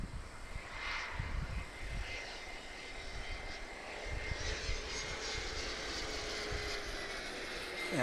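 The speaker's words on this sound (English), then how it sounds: "Here comes more corporate jet action." Corporate jet aircraft at Palomar airport in Carlsbad, a steady moderately distant engine roar and rumble with broadband hiss that swells slightly and builds toward the end, heard alone with no talk.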